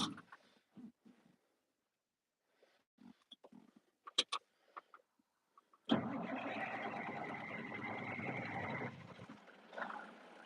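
A Peterbilt 359 semi truck with an old flat dash fires up after a few scattered knocks and clicks, settling into a loud, steady diesel idle that runs close for several seconds before cutting off.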